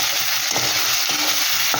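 Turmeric and Kashmiri chilli powder fry with pieces of mourola fish for a tangy, spicy jhal, giving a steady close sizzle with a few sharp stirring scrapes, and nobody talking.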